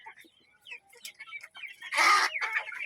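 Tiger chickens cluck and squawk up close while being fed maize and wheat bran, with scattered short calls building to a louder, harsher burst of noise near the end.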